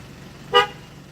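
One brief car horn toot from a driver waiting at a drive-through window, loud and close over a low idling background hum.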